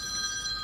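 A phone rings with an incoming call, a steady bright electronic ringing tone holding loud and even for under a second, with no talk over it.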